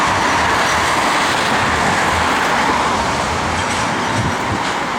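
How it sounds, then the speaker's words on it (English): An electric train passing near a city street in Adelaide gives a steady broadband rumble and hiss at close range that stays loud throughout, with no voices. "These electric train probably going to Outer Harbour"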